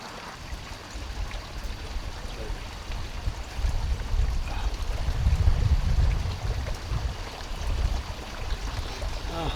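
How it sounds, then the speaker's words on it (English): Wind gusts through trees at an outdoor RV camp, a soft broadband rustle that swells louder in the middle before easing back, steady and unbroken with no voices. "Oh, love that sound of wind."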